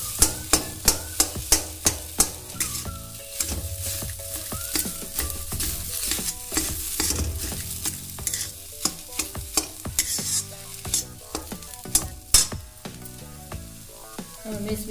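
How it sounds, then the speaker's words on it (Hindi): Spices crackle in hot oil in a kadhai while potato samosa filling is made, with a dense run of sharp popping clicks over a constant frying hiss, steady and close, with no one speaking. "इसी में फोड़ना है कढ़ाई में।"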